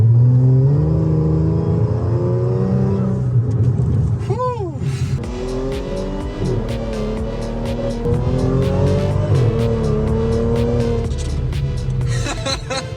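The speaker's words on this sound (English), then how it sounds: "this supercharger whine, man, do I miss it" Supercharged 3.0 V6 in an Audi S4 on the road, engine droning and revving with rising and falling whine, a sharp rev sweep midway, while someone talks over the engine.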